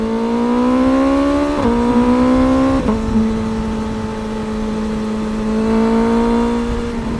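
A BMW M1000R motorcycle accelerates hard, its engine note climbing steeply through quick gear changes with brief dips between them, loud and close, with a steady rising whine and no talking.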